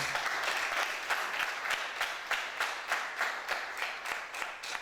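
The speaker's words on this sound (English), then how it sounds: "Please, a round of applause for yourself once again." Audience applause at a polytechnic staff association workshop, with steady rhythmic clapping from a moderate crowd that gradually thins and softens over several seconds.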